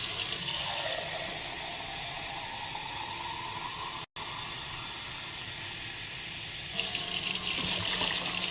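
Tap water pours steadily into a pot of rice, a continuous rushing splash with a brief break midway and a brighter, harder stream near the end.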